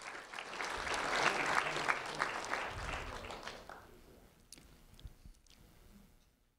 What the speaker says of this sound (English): A round of applause for Guillermo Becerra